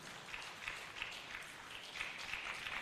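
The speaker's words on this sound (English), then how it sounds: "Please give him a rousing round of applause." A conference audience at the NAIP 24th National Conference applauds the association's chairman as he walks to the podium, giving steady, distant, fairly faint clapping that continues throughout.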